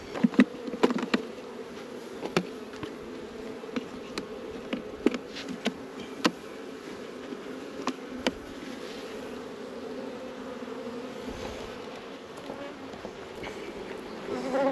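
Honey bees swarm around an opened beehive, giving a continuous close, even buzz with scattered sharp clicks and taps throughout.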